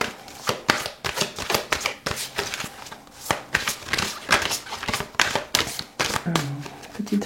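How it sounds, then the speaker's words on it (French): A deck of intuitive self-awakening oracle cards is shuffled and a card drawn, producing quick, crisp papery flicks and slaps in an uneven rapid rhythm, close and clear. "Alors on va tirer une dernière carte, oracle intuitif et éveil à soi."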